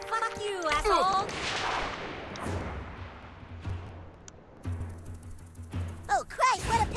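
Gunfire in the video game South Park The Stick of Truth comes as several sharp shots and heavy thuds spread through the passage among other game effects, fairly close and moderately loud.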